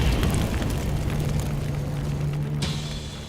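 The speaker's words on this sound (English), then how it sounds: "The burning of the cross lies at the heart of clan tradition." A burning cross at a Ku Klux Klan ritual gives off a steady, low, rushing roar of flames, loud and close, with a brief crackling flare near the end.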